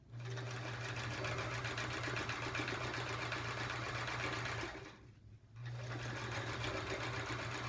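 A sewing machine runs steadily in a continuous free-motion quilting pass on a quilt-as-you-go sampler block, close and loud, with a brief pause before the motor starts up again.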